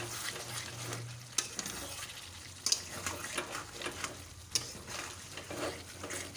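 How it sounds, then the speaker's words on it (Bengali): Mutton is stirred in a pan while cooking, with soft sizzling and frying under repeated scraping strokes and a few sharp clinks of the utensil against the pan. "এবার আমি ভালো করে নাড়িয়ে ছাড়িয়ে নেবো।"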